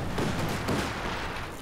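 Mortar fire in the World War II strategy game Company of Heroes, set in the Ardennes, a brief muffled rumble of two dull explosions close together in a noisy battle.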